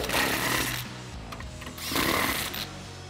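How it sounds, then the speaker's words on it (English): Impact wrench tightening a lug nut on a Jeep Wrangler JK spare tire mount, heard as two loud, close bursts of buzzing, rattling hammering separated by a short lull. "I'm just going to hit this with my impact and tighten it up"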